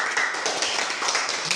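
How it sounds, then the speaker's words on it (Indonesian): A classroom applauding a student group, a short patter of many hands clapping together at moderate distance, lasting under two seconds. "tepuk tangan untuk kelompok 2 dulu"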